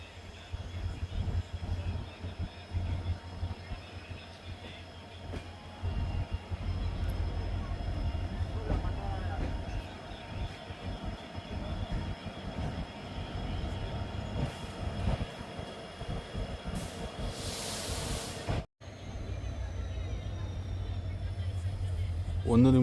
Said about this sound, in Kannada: ನಮ್ಮ ಟ್ರೈನಿಗೆ ಎಂಟ್ರಿ ಆಗ್ತಿದೆ ಬಂಟ್ವಾಳ ರೈಲು ನಿಲ್ದಾಣಕ್ಕೆ